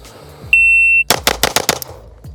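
A custom pistol emptying its magazine: a steady electronic start beep, then a rapid string of about six close, loud, sharp shots in quick succession at an outdoor timed shooting drill.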